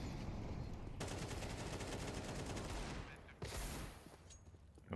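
Sustained AK rifle spray in Counter-Strike, a loud continuous rattle of automatic fire lasting several seconds, breaking off briefly then resuming in shorter bursts, with no talk over it.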